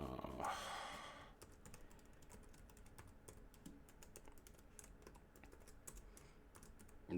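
Fingers type a new password on a computer keyboard, a quiet run of scattered key clicks going on for several seconds after a louder burst of noise at the start.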